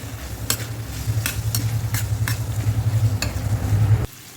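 Tomato masala with turmeric and red chili powder fries in a pan for a dhaba-style egg curry, giving a steady close sizzle with a spoon scraping and stirring through it in regular strokes.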